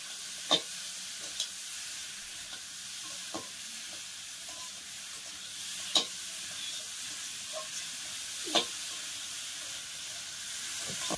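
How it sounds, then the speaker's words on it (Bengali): Spice masala frying in oil for an egg curry makes a soft, even hiss, broken every few seconds by a faint scrape of stirring, with no voices. "সব মশলা তো ভালোভাবে ভাজা হয়ে গিয়েছে,"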